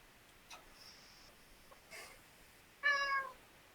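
A cat makes soft chirps and short breathy sounds, then lets out one clear, louder meow near the end, close by in a quiet room.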